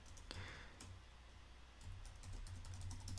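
Keys clatter on a computer keyboard as Swift code is typed into Xcode, a quick run of light clicks with short pauses, close and fairly quiet.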